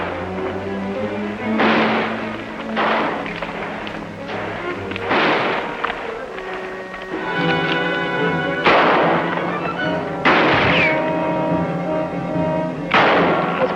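Gunshots in a western television episode, a series of loud, booming shots spaced a second or two apart, some echoing, over a steady background of period dramatic score.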